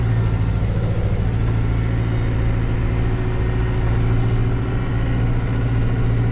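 A Massey Ferguson MF 5430 tractor pulling an 11-tine chisel plough in a field drones with a steady, loud diesel engine hum, a constant low throbbing rumble from start to finish.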